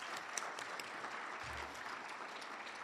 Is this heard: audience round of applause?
yes